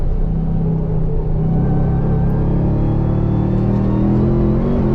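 Supercharged RAM TRX pickup truck on the Nurburgring circuit, its engine a loud, steady, low rumble with a rising whine held through the whole stretch, no voices over it.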